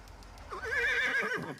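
A horse gives a loud, close whinny lasting about a second, its wavering cry rising and falling before trailing off, with no talk over it.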